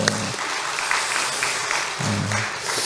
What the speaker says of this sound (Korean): 우리 박수로 한번 또 격려했으면 좋겠습니다.